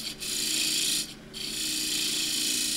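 A woodturning tool peels Huon pine on a spinning lathe, producing a continuous close, harsh rasping shear with the motor's hum underneath, broken by two brief lifts of the tool.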